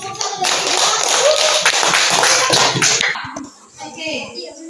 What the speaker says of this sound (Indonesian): Oke, tepuk tangan untuk kelompok 1 dan